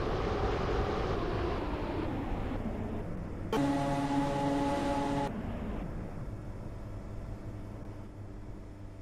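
A Class 508 train in the Roblox game Stepford County Railway, travelling between Newry and Connolly. A steady low rumble of running gear holds throughout, and a brief higher electronic tone briefly rises above it midway.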